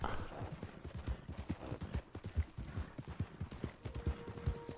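A horse's hooves in Red Dead Redemption 2, a steady clip-clop gait with regular hoof strikes, close and fairly quiet, a faint tonal game sound near the end, no talking.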